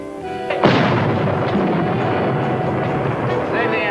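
Tank cannon fire in an old radio drama: a heavy boom hits after a brief lead-in, then a sustained loud rumbling roar carries on for several seconds.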